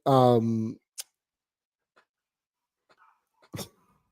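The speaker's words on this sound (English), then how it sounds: "dog is barking a little bit" A dog gives one drawn-out, tonal bark or yelp, fairly close, followed by near silence broken by a few faint clicks and a short breathy sound.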